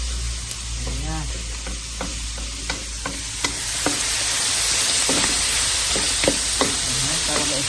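Garlic, onion and tomato sizzle and crackle steadily in a hot pan, with stirring knocks scattered through and a continuous frying hiss that grows louder toward the end.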